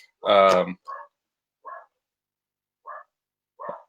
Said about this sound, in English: I might have to go grab my dogs here.